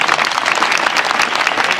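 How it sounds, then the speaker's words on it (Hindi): Dense, steady applause from a seated audience at a rally, many hands clapping continuously and loudly throughout with no voices rising above it. "जितने भी लोग बैठे हैं सबकी तालियां आनी चाहिए एक बार"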